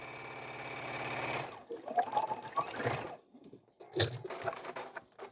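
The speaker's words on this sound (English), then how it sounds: "And then I'm going to sew again." A sewing machine runs a steady stitching burst on a reversible flannel infinity scarf, then stops, followed by close handling and fabric rustling with soft clicks.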